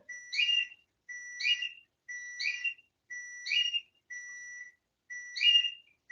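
Kitchen timer going off for cooking chicken, a repeating electronic beeping pattern of six evenly spaced bursts, clear and isolated with no talk.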